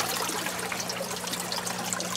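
Water trickling and splashing from a scrap PVC aerator pipe into a garden tank, a soft steady dribble with faint continuous flow and no voices.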